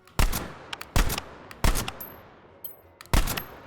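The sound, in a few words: Fedorov automatic rifle firing in video game H3VR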